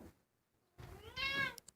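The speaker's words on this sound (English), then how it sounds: "This is the portion of the day where Liberty wanders around the house yowling" A house cat lets out a faint, drawn-out meow that rises into a yowl, following a short quiet pause, heard alone and fairly soft.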